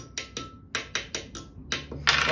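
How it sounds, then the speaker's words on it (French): Kalimba tines tapped with a small hammer while tuning: about nine sharp metallic taps in an uneven rhythm, each with a brief ringing decay, close and clear with no voices. "Sinon, on a le marteau un peu plus gros modèle."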